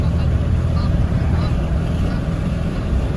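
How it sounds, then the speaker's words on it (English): A diesel pickup truck with a blown turbo is driven hard, and its engine makes a loud, steady low rumble and drone throughout, heard from inside the cab. "Finally letting off the throttle just to get it to shift."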